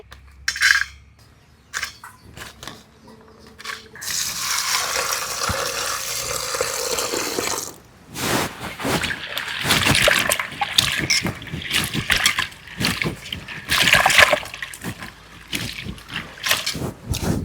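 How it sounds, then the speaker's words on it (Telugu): Gongura seed pods are washed in water, with sloshing, splashing and trickling plus clinks of a vessel, close and steady over several seconds, with a quieter start and no talking. "గోంగూర తప్పుకల్ని నీట్గా కడుక్కుందాం దుమ్ము ఉంటుంది"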